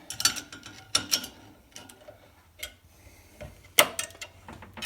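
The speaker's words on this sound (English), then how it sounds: "a garden variety C-clamp and I tighten it down" A common C-clamp is screwed down onto two steel plates in a workshop, giving a string of close mechanical ratcheting clicks and creaks in short bursts separated by brief pauses.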